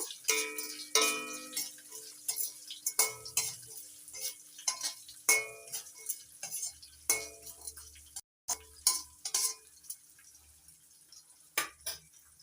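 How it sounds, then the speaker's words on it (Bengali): Diced carrots frying in a pan over a low flame, heard mostly as repeated close clinks and scrapes of a stirring utensil over a soft, faint sizzle. "গাজরটা লো ফ্লেমে রেখে একটু ভেজে নেব"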